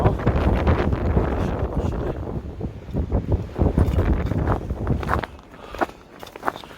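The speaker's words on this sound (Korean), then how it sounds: "바람 많이 분다" Strong wind on the snowy Seonjaryeong winter mountain trail, a loud continuous rumble buffeting the microphone, mixed with crunching footsteps on snow, the gusts easing toward the end.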